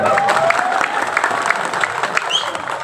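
A large crowd applauds steadily at a BSCO political rally in Hajagiri, Tripura, a dense, continuous patter of clapping heard up close for several seconds.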